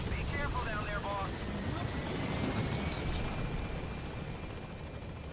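A helicopter in the video game Metal Gear Solid 5 makes a steady, loud rotor and engine drone that fills the scene, with a few brief higher game sounds early on.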